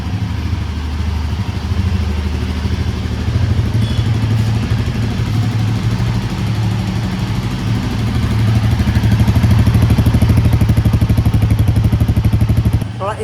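A Royal Enfield Himalayan 450, started after sitting unused for three months, idles with a steady, even engine thrum close by, growing slightly louder near the end before cutting off.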